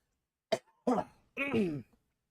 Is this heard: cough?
yes